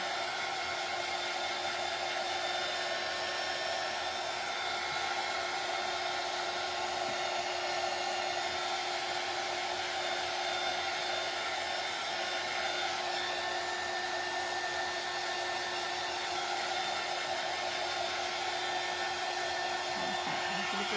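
A hair dryer runs continuously while drying a Dollar Tree lantern craft, a steady close whooshing roar with a faint motor whine and no speech.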